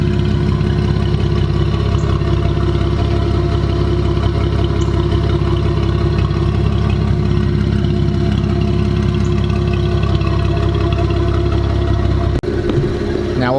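Cadillac CT4-V Blackwing with cat-less downpipes idling in track mode with exhaust valves open, a loud, steady deep rumble held close for several seconds before cutting off abruptly near the end.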